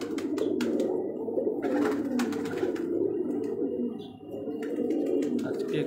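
Domestic pigeons coo steadily and continuously on a rooftop, a dense close chorus of overlapping low calls with occasional wing flutters and brief higher chirps.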